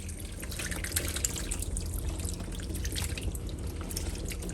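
Water trickles and drips steadily off roasted tomatoes as they drain, a continuous wet patter with small splashes and no voices.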